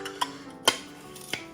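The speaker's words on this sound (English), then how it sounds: "I'm going to use our little cool smasher thing." A small hand-held garlic smasher presses minced garlic for lemon garlic hummus, giving three short, sharp clicks and taps spaced irregularly over a quiet kitchen background, the middle one loudest.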